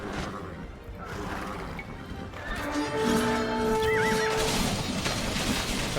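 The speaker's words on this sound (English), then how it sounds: "Make the Persian horses stampede." Persian horses neigh and stampede in Age of Empires II, with loud whinnies rising over a rumbling clatter of hooves and game battle noise, growing busier toward the end.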